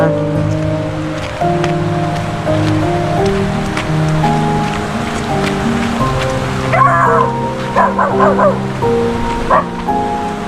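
A dog barks a few times in the middle distance at a campsite in Daraitan, Philippines, over steady background noise with a low droning hum and light rain.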